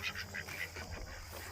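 Ducks quack inside a farmyard coop at roosting time among roosters and guinea birds, a short burst of rapid, overlapping nasal calls close by against a steady background hum.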